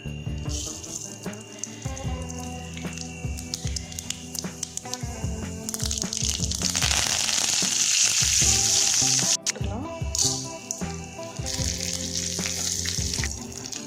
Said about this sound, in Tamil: எண்ணெய் ஊற்றிட்டு கடுகு போட்டுக்கலாம்.